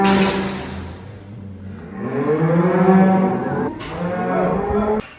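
Cattle on a farm bellowing in long, loud moos that overlap and rise and fall, with one close cow drawing out a sustained call near the end.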